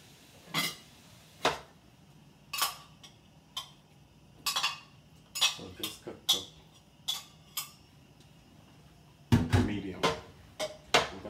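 String beans go into a cooking pot for Guyanese chow mein, giving scattered clinks, taps and knocks of utensils and pot at irregular intervals, with a louder cluster of clatter near the end against a quiet kitchen background.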